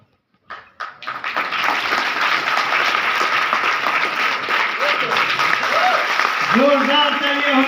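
Sustained applause from an audience at an Urdu academy stage event in Kolkata, starting with a few scattered claps and swelling into steady, dense clapping that continues throughout, with a voice speaking over it near the end.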